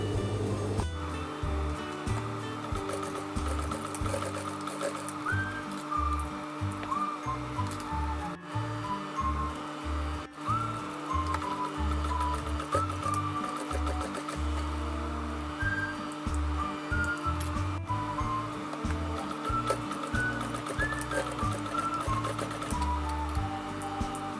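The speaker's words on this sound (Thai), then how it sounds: "เดี๋ยวเราเย็บหูเสร็จเดี๋ยวมาดูกันนะคะ" A sewing machine stitches belt loops onto trousers with a continuous rhythmic mechanical thrum and clicking, running steadily close by with no talk.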